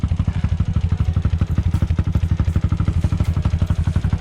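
Honda C900 custom motorcycle idling through its aftermarket exhaust, a loud, close, rapid lumpy thumping pulse, evenly repeating without revving.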